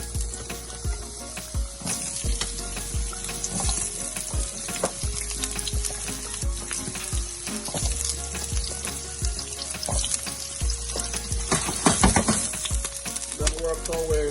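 Aubergine fries in a pan for a salt mackerel rundown, a dense steady sizzle broken by frequent sharp clicks and scrapes of stirring.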